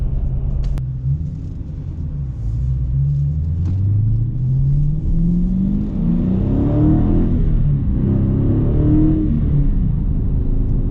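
2016 Dodge Challenger R/T Scat Pack with a 6.4-liter V8 Hemi and six-speed manual, a deep close rumble revving up in a long rising sweep, easing and climbing again, heard alone.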